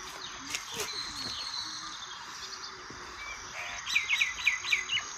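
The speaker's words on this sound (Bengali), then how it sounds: "পাখির ডাক ছাড়া কিছুই শোনা যায় না" Birds call in the quiet Pabong valley of Kalimpong, with scattered distant chirps over a soft insect hum, rising to a clear, rhythmic run of repeated whistled notes near the end.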